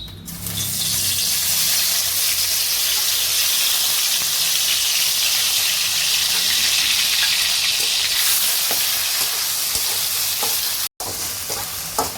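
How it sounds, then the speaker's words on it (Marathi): Masala fries in hot oil for Kolhapuri mutton: a loud, steady, close sizzle with occasional stirring scrapes, broken once by a brief dropout near the end. "तेल जरा तापलं की मग हा मसाला फ्राय करायचा"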